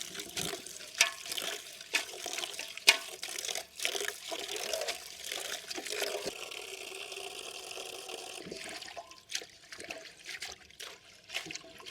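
Leaves are swished and rinsed by hand in a container of water, giving irregular splashing, trickling and sloshing, moderately quiet and close, with no talk.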